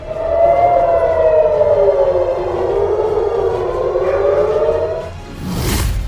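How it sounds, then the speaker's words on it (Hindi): Air raid sirens wail across a city in Israel during a rocket attack, a loud steady rising-and-falling siren tone lasting several seconds before a burst of broadband noise at the end. "हर तरफ सायरन बज रहे हैं।"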